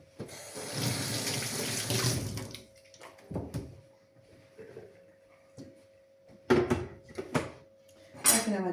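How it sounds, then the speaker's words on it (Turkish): Hands washed under a running kitchen tap while making a Turkish meatball stew: a steady close rush of water for about two and a half seconds, then scattered clinks and knocks of dishes with brief splashes, no talking. "Şimdi elimi bir yıkayıp geliyorum."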